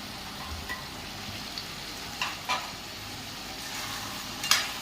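A spoon stirs chicken liver fry with ginger paste and chilli powder in a pan, giving a steady sizzle with a few soft scrapes and clinks, close and moderately loud, with no voices.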